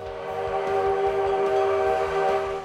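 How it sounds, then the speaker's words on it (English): A Virginia City steam train sounds a long, loud whistle chord, steady and sustained over the low rhythmic chug and rumble of the locomotive and cars nearby. "the other unique and interesting thing here in Virginia City is one of the last steam trains"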